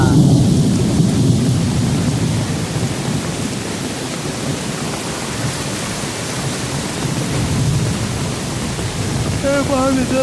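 Thunder rumbles low and continuous beneath steady heavy rain during a monsoon river flood in Konkan, India, with a brief voice-like sound near the end.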